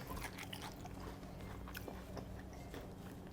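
Crunchy bites into crispy fried eggplant topped with mayonnaise and pork floss, a close, continuous crackle of breaking batter and chewing with no talk.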